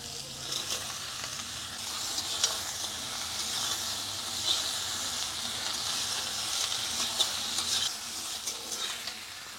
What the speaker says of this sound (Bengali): এখন আমি দিয়ে দেব এই যে সেই ডান্ডি, চায়না শাকের ডান্ডি।